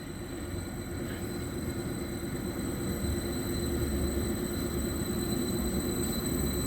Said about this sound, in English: The Ipswich train pulling in.